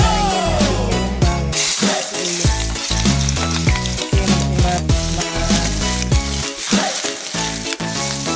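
Oil sizzling in a pan while Baguio beans are sautéed, a steady hiss running the whole way through, heard under loud background music.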